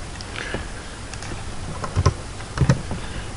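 Keys clatter on a computer keyboard as a short name is typed, a handful of quick, close clicks in small bursts over a low steady background hum, with no talking.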